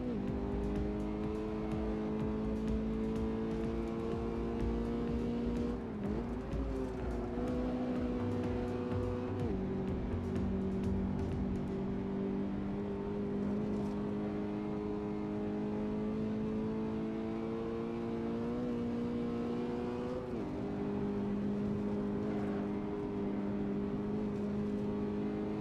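Toyota GT86 in the Assetto Corsa racing game lapping the Nordschleife, a steady droning engine note with a few dips and swells as the revs shift under braking and through corners, continuous and close.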